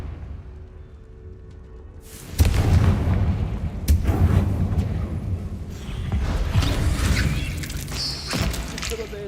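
A Confringo fire spell from the Hogwarts Legacy video game bursts with a sudden loud boom, followed by rumbling blasts and crackling impacts; a voice speaks briefly over the action.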